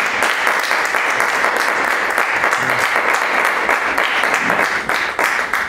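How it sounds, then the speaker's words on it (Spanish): Audience applause at a poetry reading in a bar in Algeciras, a dense, steady wash of many hands clapping that fills the room at even loudness from start to finish, with no voices standing out. "yo creo que lo que merecen es un aplauso."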